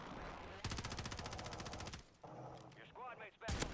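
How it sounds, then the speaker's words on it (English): Rapid automatic gunfire from a video game shootout rattles in a dense, loud burst, then breaks off into scattered shots with voices talking over the game sounds. "Bullets going everywhere."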